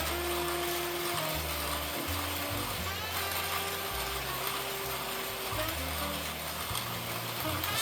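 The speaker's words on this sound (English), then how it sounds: "just grinding your coffee by hand" Coffee beans are ground by hand in a manual grinder outdoors in the rain, a steady rough ratcheting crunch that runs continuously with a slightly uneven rhythm, close and moderately loud.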